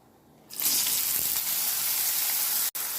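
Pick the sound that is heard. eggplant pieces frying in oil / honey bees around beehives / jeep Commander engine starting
eggplant pieces frying in oil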